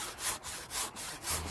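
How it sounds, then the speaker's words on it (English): An old handsaw cuts through a Hebel aerated concrete block with about three quick, rasping back-and-forth strokes, close and fairly loud, with no talk over it. "you just grab an old handsaw"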